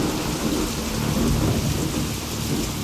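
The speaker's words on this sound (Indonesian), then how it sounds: "hujan pun turun dengan lebatnya." Heavy rain falls in a dense, steady roar, with deep thunder rumbling beneath it through a spooky Indonesian radio drama; loud and continuous, with no voices.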